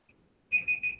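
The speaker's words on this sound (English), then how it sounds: "that's my alarm." An alarm clock rings with a steady, loud electronic beeping tone that starts abruptly halfway through and continues in close, pulsing bursts, after a faint brief beep at the start.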